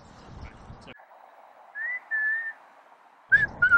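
Human whistling used to trigger a whistle-controlled rocket launcher: a rising whistled tone, then a longer steady whistle, then two short sharp whistles at the end, heard after a brief burst of nearby voices.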